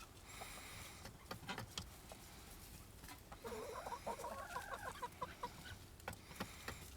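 A backyard duck nicknamed the quacker emerges on a snowy day, giving a run of soft, rapid nasal calls through the middle of the clip over steady outdoor noise and scattered light pattering.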